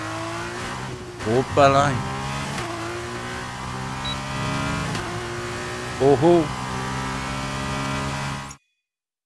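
F1 cars in the racing game F1 22 rev and whine, with sharp pitch-rising engine sweeps over a steady motor drone, while someone talks briefly over them.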